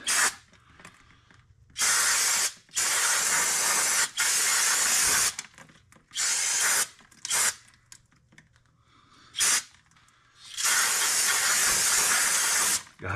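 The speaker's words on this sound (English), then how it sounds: "I'm going to brake clean, just clean them up a bit" Brake cleaner sprayed from an aerosol can onto the drum brakes of a Honda Foreman ATV, loud hissing bursts of varying length repeated about eight times, close up with no talking.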